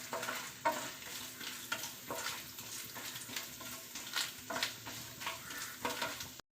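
Chickpeas and coconut pieces being sautéed in a pan, with a steady sizzle, repeated scraping stir strokes and clinks at close range. No voices.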